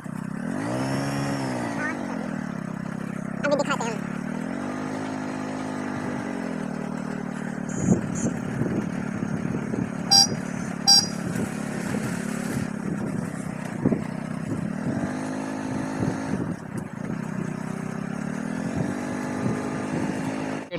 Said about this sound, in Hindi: ओए ये कैसा बाइक चला रहा है यार